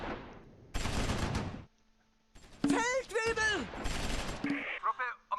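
Gunfire in a Close Combat IV battle, infantry taking fire: broadband bursts of shooting come and go in chunks, broken by a brief lull, with clear voices speaking over the later part.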